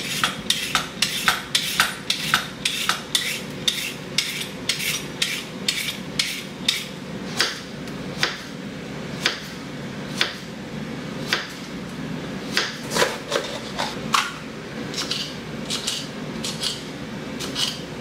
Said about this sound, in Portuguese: eu vou começar a primeira coisa aqui, cortando a cenoura e o pimentão